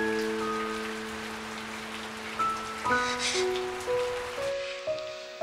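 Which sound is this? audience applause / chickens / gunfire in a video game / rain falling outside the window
rain falling outside the window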